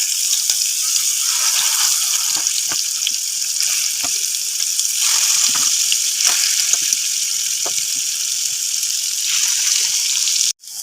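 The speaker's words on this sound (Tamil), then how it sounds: "ஊற வச்ச மீன் துண்டுகளை சேர்த்துக்கலாம்." Marinated vawaal fish pieces frying in hot oil in a pan: loud, steady crackling sizzle throughout that cuts off abruptly at the end, with no talking.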